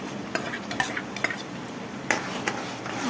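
Garlic and tomatoes being stirred into fried onion in a pan make a quiet, short stretch of soft sizzling with several light spoon scrapes and taps against the pan, heard up close and alone.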